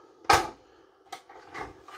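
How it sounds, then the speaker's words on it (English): A soft click and clunk as a push button releases and opens the refrigerator door in a 2024 Salem 29VIEW travel trailer, followed by a few faint knocks and rattles. "So you got a little push button here to release the door"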